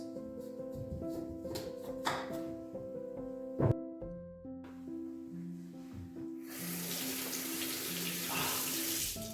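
Icy cold tap water runs steadily while a potato is washed outdoors in the Italian mountains, a close splashing flow with clinks and a brief pause before the stream surges louder.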